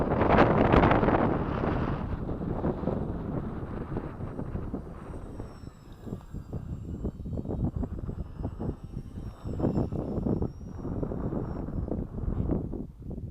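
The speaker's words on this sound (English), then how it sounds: "You're right, Newie, it does fly really easy, especially in this wind." Steady wind buffets the microphone during the maiden flight of a Walrus model glider outdoors, with a loud broadband rush throughout and a faint thin whine of the small aircraft motor above it.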